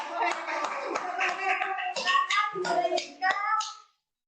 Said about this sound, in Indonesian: Tepuk tangan dulu dong untuk kelompok 2